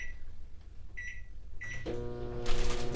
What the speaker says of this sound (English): butter is not quite melted, so a few more seconds in the microwave for that.